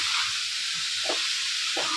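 Boiled guar beans and potatoes fry in spices with a continuous close hiss and sizzle, broken by a couple of short stirring scrapes partway through.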